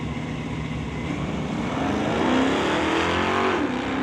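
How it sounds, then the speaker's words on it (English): A 1969 Chevelle and a 1969 Dart in an NHRA Summit ET Series bracket drag race rev hard, with a loud, rising engine roar and whining pitch sweeps that peak mid-clip, heard alone without talk. "Prescott from Abbotsford in the 69 Chevelle here tower side"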